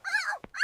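A puppy gives two short, high, whimpering yips close up, broken by a brief thud, used as a sound effect in a spoken story.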